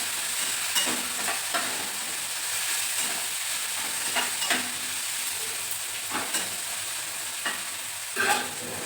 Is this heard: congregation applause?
no